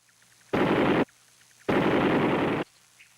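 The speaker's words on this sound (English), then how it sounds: "the most valued weapon of all was the M60 machine gun" An M60 machine gun fires two loud sustained bursts, the first about half a second and the second roughly a second long, separated by a short pause.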